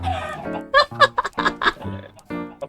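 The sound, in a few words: chicken clucking in a video game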